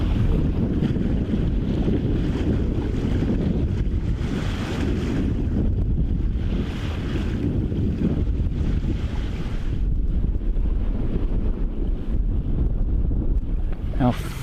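A sailboat moving calmly at about 3.5 knots off Santa Cruz in the Channel Islands at sunrise, a steady wash of water and wind rushing past the microphone, continuous and fairly loud with no distinct events.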